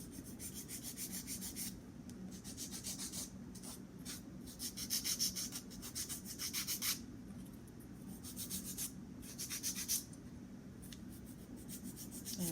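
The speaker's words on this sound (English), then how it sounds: "I'm going to use a hand file, and I'm just going to make sure that I keep my shape" Hand file rasping excess acrylic off the sides of long acrylic nails, a quiet steady scratching in repeated short strokes with brighter bursts, close and alone.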